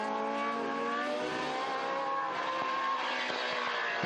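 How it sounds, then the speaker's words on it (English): A historic Ligier Formula One car races at the Estoril Classics, its engine screaming loudly and steadily close by, with high harmonic whine that shifts slightly as it accelerates past. "This looks a really well balanced car, the Ligier."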